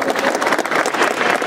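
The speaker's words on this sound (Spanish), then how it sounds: "Fuerte aplauso para Rafael." Wedding guests break into sustained, dense applause, a steady wash of many hands clapping close by with faint crowd murmur throughout.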